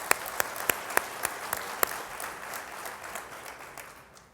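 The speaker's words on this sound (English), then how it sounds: "Can we give them a round of applause?" Audience applause for young leaders at a conference, starting with a few sharp, distinct claps that swell into a broad, even round of clapping before gradually fading away.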